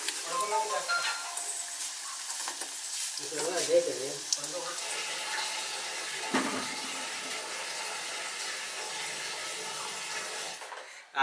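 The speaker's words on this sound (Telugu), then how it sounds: "ఆయిల్ కాగిపోయింది. ఈ మటన్ ముక్కలు ఇందులో వేసేస్తున్నాము" Mutton pieces for mutton pakodi dropped into hot oil, a steady close hiss and sizzle of frying that continues throughout, with a voice talking briefly over it.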